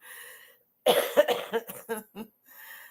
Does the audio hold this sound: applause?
no